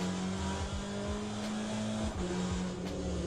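Race car engine from the sim racing game Le Mans Ultimate, heard during an online Le Mans race. It drones steadily and loudly from start to finish, with rising revs swelling and falling in repeated gear-shift sweeps.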